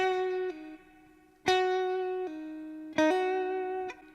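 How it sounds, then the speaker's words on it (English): Electric guitar notes, apparently played with a distorted effect, are picked and then released by the fretting hand, dropping to a lower pitch each time. Three plucked phrases ring out in a quiet setting. "If I would just do the releasing thing instead of pulling off, it would sound something like this."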